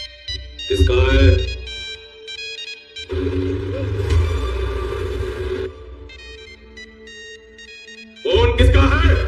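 A mobile phone ringtone plays loudly as a tonal melodic tune in repeating bursts with brief pauses, with a voice briefly speaking over it.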